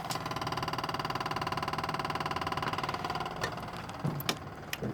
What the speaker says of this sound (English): I got the fuel pump running.